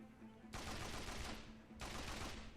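Enemy gunfire in the video game Mercenaries 2 roars in two long, loud stretches of dense, continuous shooting, broken by a short lull near the middle.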